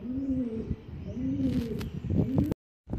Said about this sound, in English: Lots of pigeons in there.